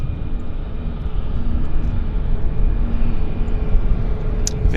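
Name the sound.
Central Mountain Air Dash 8 100 turboprop airliner passing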